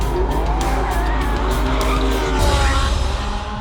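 A Porsche 918's engine roars loudly as its tires squeal and skid across the pavement, the rear sliding out in a continuous, harsh slide.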